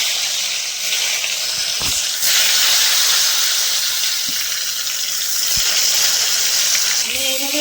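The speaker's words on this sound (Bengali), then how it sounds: "দিয়ে দিচ্ছি তেল, দিয়ে দিচ্ছি বেগুনগুলো।" Eggplants fry in hot oil with a loud, steady, close hiss and sizzle, broken by a few faint knocks and clinks.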